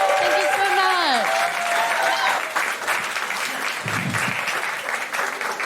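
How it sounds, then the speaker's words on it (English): Loud audience applause at a live comedy show, with whoops and raised voices cheering over the opening seconds before the clapping carries on steadily alone. "Round of applause."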